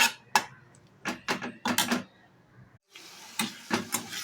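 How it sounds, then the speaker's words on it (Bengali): Green chili paste and spices sautéing in a pan give bursts of spattering sizzle and stirring scrapes, a brief quiet gap near the middle, then a softer steady fry with more stirs; no one speaks. "এগুলো দিয়ে আমি একটু কষে নেব।"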